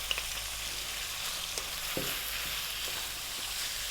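Chopped garlic and onions fry with lamb in a pot for an Arab lamb stew, giving a soft, steady sizzle with a few faint stirring taps, quiet and close.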